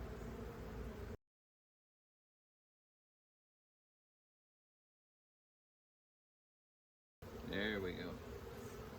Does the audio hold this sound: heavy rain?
no